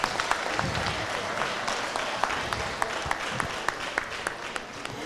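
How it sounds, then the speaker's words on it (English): Town hall meeting audience clapping for the National Health Service, a lively round of applause with sharp individual claps standing out over the crowd and a few voices mixed in. "Let us give a big clap for the National Health Service."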